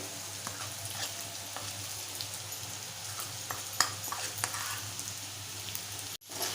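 Coconut paste of fresh coconut, coriander, ginger and garlic sizzles steadily while being stirred into a drumstick, brinjal and potato curry, a constant frying hiss with faint scrapes and no voices.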